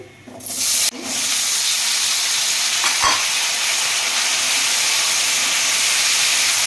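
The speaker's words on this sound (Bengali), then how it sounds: "কড়াইটা গরম হয়ে গেছে প্রথম আলুটা দিয়ে দিচ্ছি" Potatoes, to be cooked with pumpkin and prawns, hit a hot wok (kadai) and burst into a loud, steady sizzle that holds evenly for several seconds after a brief quieter start.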